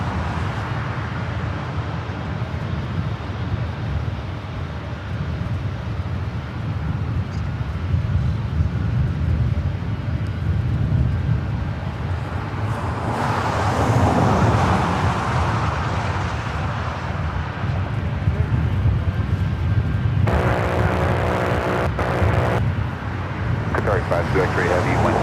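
An airliner passes over LAX airport, a low broad roar that swells and fades under steady wind noise, while a voice talks over the sound.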